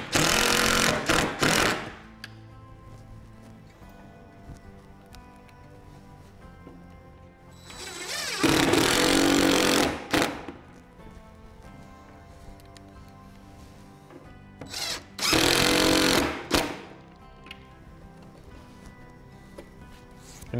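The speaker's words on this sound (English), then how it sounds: "Screw the bracket to the wall, not over torquing, just making sure it's firm and secure." A power drill drives screws through a heavy-duty floating shelf bracket into a wall, three loud buzzing bursts of a few seconds each separated by quiet pauses, close and with no talking.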